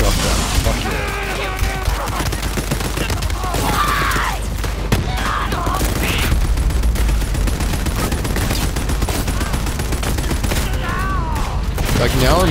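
Borderlands 3 gameplay gunfire, dense rapid shots and bursts with chaotic combat effects running continuously, loud and close, with a voice talking over parts of it.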